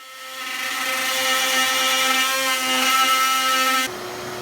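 A router fitted with a 90-degree V-bit cuts 45-degree joints into wooden back pieces for a corner TV stand, a loud rising whine that holds steady, then drops abruptly to a lower hum near the end.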